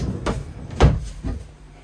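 A drawer in a camper van interior at a motorhome show slides open, giving a few short soft knocks and rumbles close by, the loudest thump in the middle.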